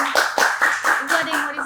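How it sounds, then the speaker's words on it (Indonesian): A few people clap briefly for a school teacher aide, sharp close hand claps in an irregular quick rhythm lasting under two seconds, with a voice speaking over them. "Tepuk tangan dulu guys,"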